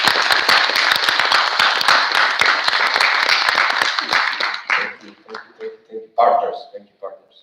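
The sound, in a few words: audience applause and clapping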